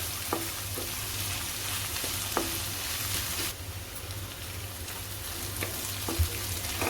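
Vegetables for Mumbai-style pav bhaji cook with onions in a pan, giving a continuous low sizzle and hiss punctuated by occasional light taps and scrapes of a spoon against the pan.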